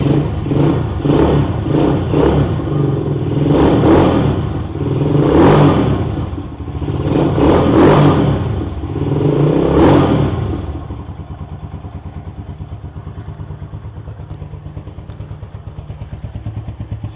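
A KP Mini 150 motorcycle fitted with a new muffler starts up and revs in several loud surges over roughly ten seconds, then drops to a steady, deep idle. The engine is close by and no voices are heard.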